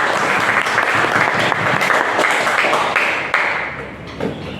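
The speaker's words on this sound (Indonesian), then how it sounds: "Oke, tepuk tangan untuk kita semua." A group at a school gathering claps hands together in a brisk, dense burst of applause that fades slightly toward the end, close and lively.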